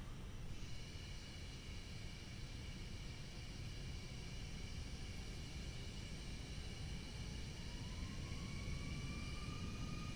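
An Air New Zealand A320 on its takeoff roll in the MSFS 2024 flight simulator gives a steady, loud engine roar with broadband rumble and a high whine, and a rising tone emerges toward the end.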